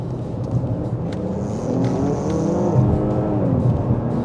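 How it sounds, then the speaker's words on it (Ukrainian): A Lincoln Continental's V6 engine revs up steadily, its deep rumbling note climbing in pitch as it accelerates, loud and close with no talking. "За рахунок того, що в нас стоїть V6, звук дуже гарний, породистий, він справді кайфовий."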